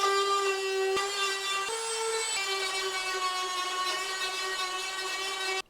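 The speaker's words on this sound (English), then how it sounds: "Okay, time to spend a lot of time with the Dremel." Dremel rotary tool grinding to enlarge a hole in a Volkswagen Beetle door panel, a steady high-pitched whine held at an even level for several seconds with a couple of brief pitch dips, close and alone without talk.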